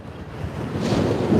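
Outdoor wind buffeting a microphone in San Francisco near a bridge, a loud low rumble that swells and grows stronger toward the end, with no talking.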